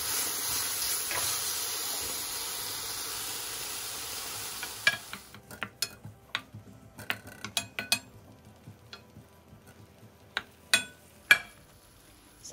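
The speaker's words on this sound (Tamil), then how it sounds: "ஸோ ரெண்டுத்தையும் ஆட் பண்ணிவிட்டு நல்லா வதக்கி விட்டுக்கோங்க" Onions and tomatoes sauté in a pan for homemade pizza sauce. A steady, close sizzle gives way to sharp spoon scrapes and clinks against the pan, with quieter frying in between.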